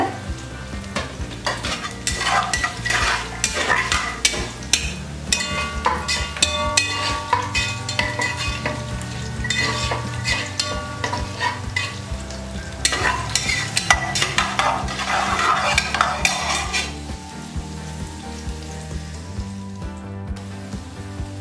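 Garlic frying in a pan alongside onion during a quick Coorg-style meal, with continuous loud sizzling and busy stirring scrapes and clatter close by, easing off near the end; no talking.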